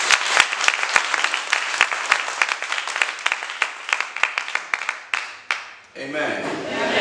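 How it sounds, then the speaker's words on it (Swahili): A Pentecostal church congregation applauds, scattered sharp claps building into a ragged, uneven round that thins out before a voice and music take over. "Pigie Yesu wetu makofi."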